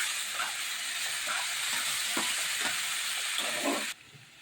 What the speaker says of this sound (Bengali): এবার আমি আলুটাকে লাল লাল করে ভেজে নিচ্ছি।